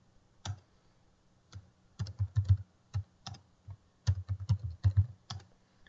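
Bursts of computer keyboard typing with short pauses between clusters of keystrokes, close and fairly quiet with no talking.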